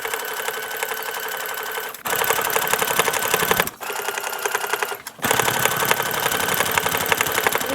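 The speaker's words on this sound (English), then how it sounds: "before I sew this part back on it, and then the pockets" A sewing machine with a heavy duty 110/18 needle stitches denim for patchwork jeans, running loud and close in steady rapid bursts, briefly pausing twice before resuming at full speed.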